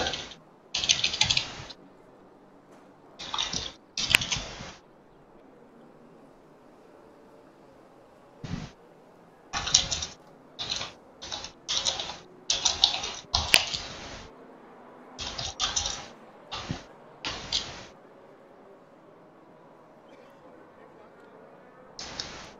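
Bursts of computer keyboard typing while writing a message in Discord, short clustered clicking runs separated by pauses, fairly close and moderately loud with faint background hum.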